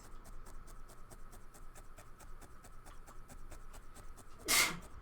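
One short, sharp sneeze bursts out near the end over a quiet room with faint rhythmic tapping, as if someone is working at a needle-felting project.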